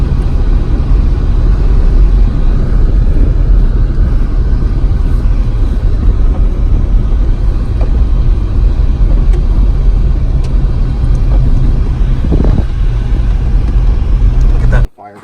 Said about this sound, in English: We're driving down the wash.